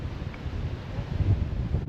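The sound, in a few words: wind blowing into the microphone outdoors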